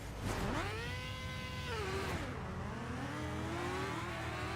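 A Ford Fiesta XR2 tuned to 20,000 RPM and 8,000 HP in Forza Horizon 3 screams up to redline, a loud sustained high-pitched engine wail rising, dipping on a shift, then climbing again.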